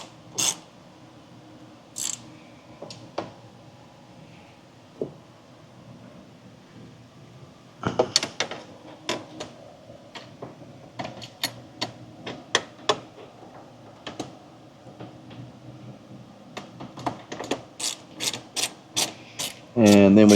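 A Torx bit works screws loose on a 2019 Ford Ranger during an oil catch can install, giving sparse ticks at first, then a dense run of sharp ratcheting clicks and small metallic taps.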